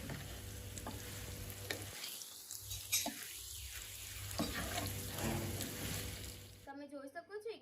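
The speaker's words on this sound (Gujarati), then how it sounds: "તો એકદમ સારી રીતના અહીંયા આપણે મિક્સ કરી લેવાનું છે." Leftover rice dhokla being stirred with red chili powder in a pan, with soft sizzling and intermittent scraping strokes close by, and a quiet voice talking over it.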